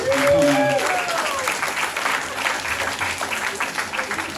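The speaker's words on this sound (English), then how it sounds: "Give yourselves a round of applause" An audience at a stand-up comedy show in Austin, Texas breaks into sustained applause, dense and steady for several seconds, with a voice briefly over the start of the clapping.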